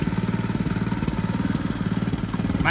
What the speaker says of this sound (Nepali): दामी तरिकाले चाहिँ यसरी ट्र्याक्टर चलाइरहेछ ईश्वर भाइले